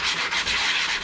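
Steady abrasive scrubbing of a yellowed, sprayed-on headlight lens on a Mazda MX-5 NBFL with a scrubbing pad, a continuous close-up rasping rub with slight surges in its strokes and no talking.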